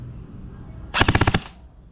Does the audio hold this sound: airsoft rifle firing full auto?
yes